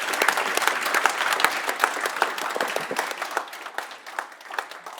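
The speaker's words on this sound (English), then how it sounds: "Can I ask for a round of big applause to our panelists?" Audience applause for the panelists closing a conference panel on EU liberal democracy, a steady wash of many hands clapping with scattered louder claps, fairly close and sustained, with no talking over it.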